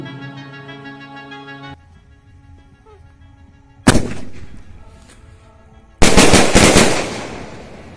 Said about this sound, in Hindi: कमाल की पटाखा है